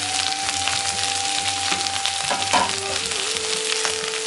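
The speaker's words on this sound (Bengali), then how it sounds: "এই যে পেঁয়াজ, রসুন, এই আদাটা, এসব একসঙ্গে আমি ভেজে নেব" Sliced onion, garlic and ginger frying together in a pan for raw banana kofta curry, a loud, continuous close sizzle with a few light stirring knocks, no talking.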